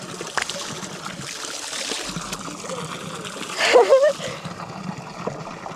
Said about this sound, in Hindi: अब धारे का ठंडा ठंडा पानी पीते हैं।